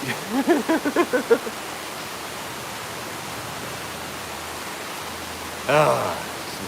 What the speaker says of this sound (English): If this water is too loud